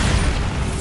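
A Bombarda spell blast in Hogwarts Legacy, a brief, loud, dense booming burst that fills the whole moment with no pause.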